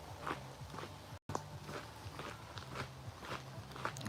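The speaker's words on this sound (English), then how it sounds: "you can hear the sound of my feet crunching on the ground" Footsteps crunching along a woodland trail into the woods, a steady walking rhythm of close, distinct crunches with a brief dropout partway through.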